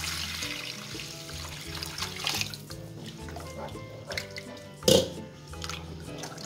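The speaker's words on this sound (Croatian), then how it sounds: "Sad kad se brašno ovako malo upržilo, dodajemo unutra litar vode." A litre of water is poured onto flour toasted in a pot for yogurt and mint soup, giving a soft, steady splashing that swells briefly near the end over a low background hum.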